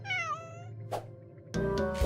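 A cat gives a long drawn-out meow with rising and falling pitch in an indie video game trailer, set over a steady game soundtrack and followed by bursts of music.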